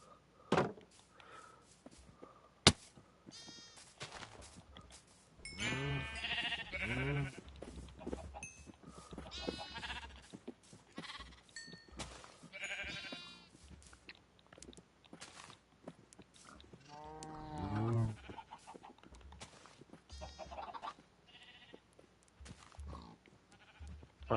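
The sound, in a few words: sheep bleating in video game Minecraft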